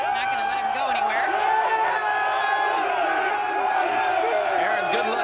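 A stadium crowd at the College World Series finals between Oregon State and North Carolina whoops and cheers after the championship win, a loud sustained roar with shouted voices rising and falling throughout.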